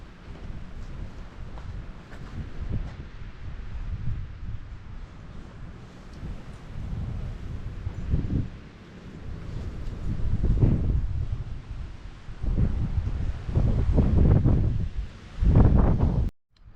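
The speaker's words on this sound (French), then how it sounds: "il y a un vent de fou aujourd'hui. Il fait beau, mais il y a du vent." Strong wind buffets the microphone in heavy low rumbling gusts, rising and falling continuously, with rustling in the background.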